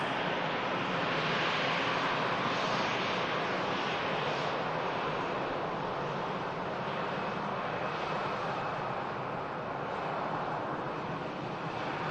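An EasyJet airliner lands at Manchester Airport, its engines a steady, loud broadband roar that holds for the whole stretch with some wind buffeting the microphone, no voices.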